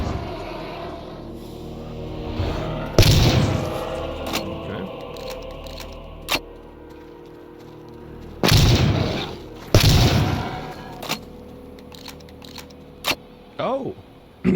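Gunshots in the horror game Clive Barker's Undying, several loud sharp blasts scattered irregularly with reverberant tails and smaller pops between them, under quiet game ambience.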